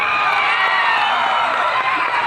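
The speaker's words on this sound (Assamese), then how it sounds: "এটা জোৰদাৰ হাত চাপৰি লাগে ৰাইজ" Concert crowd responding with dense, steady applause and scattered cheers, a broad continuous wash of clapping at full level throughout.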